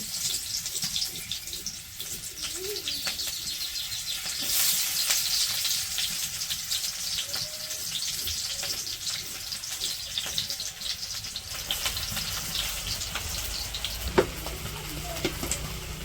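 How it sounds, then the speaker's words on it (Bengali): Onions and green chillies frying in oil in a wok for a village-style fish curry, a continuous close sizzle and hiss with occasional stirring scrapes, steady and moderately loud, no talk. "তো পেঁয়াজ আর কাঁচামরিচ ভেজে নিতেছে"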